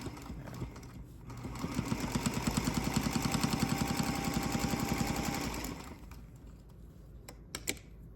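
A Singer Featherweight sewing machine stitching a quilted bookmark, its rapid steady needle chatter running for several seconds up close, then stopping, with a few light clicks after.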